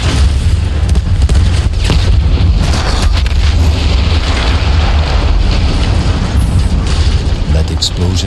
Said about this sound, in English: Explosion was one of the sweetest sights of the war for me.